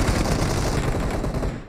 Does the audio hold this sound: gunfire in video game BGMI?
yes